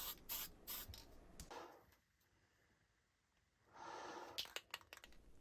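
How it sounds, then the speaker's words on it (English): Two hissing sprays from a can of brown spray paint into its lid, a short one and then a longer steady one after a quiet gap, close and fairly soft. "I spray a bit of brown paint into the lid of the can."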